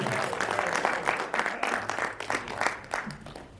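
An audience at a Ghaziabad kavi sammelan poetry event applauds the stage, with steady moderate clapping throughout and faint voices beneath.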